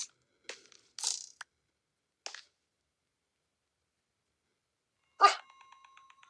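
Several sharp, short barks from a dog come in scattered bursts, with long silent gaps between, the last one loudest and close.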